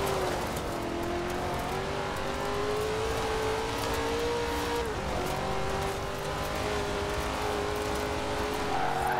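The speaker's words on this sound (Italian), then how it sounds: "Tiriamo il collo a sto motore." Chevrolet Corvette ZR-1 in Forza Horizon 4 screaming at high revs through a hillside race, its engine note climbing steadily, dipping briefly at a shift, then pulling hard again, loud and continuous with no talk over it.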